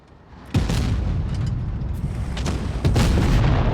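Tank cannon shots in World of Tanks Blitz: two heavy booms, one near the start and another about two seconds later, each followed by a loud rumbling roar.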